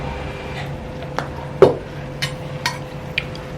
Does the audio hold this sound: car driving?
no